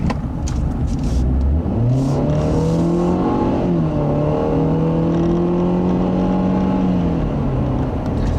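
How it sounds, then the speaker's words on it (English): A 2014 Ford Fusion S accelerates on a test drive, and its engine note rises steadily in a loud drone heard from inside the car, with no talking. "Again, acceleration is adequate."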